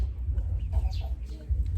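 Chickens on a small farm, short clucks and soft bird calls scattered over a low, steady rumble, fairly close, with someone talking nearby.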